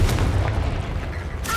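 The Confringo explosive spell in Hogwarts Legacy lands as a deep, booming blast with rumbling low end, followed by a second sharp burst just before the end.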